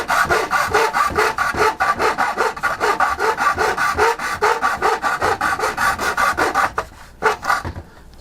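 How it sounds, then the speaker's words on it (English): A hacksaw blade cuts through a Redcat Racing Gen 8 PACK RC car hard body in quick, regular back-and-forth strokes, loud and close, the rasping stopping briefly near the end before a few final strokes. "I would get my saw blade ready, find the right spot, and you just saw it like you would any other item that you would be cutting"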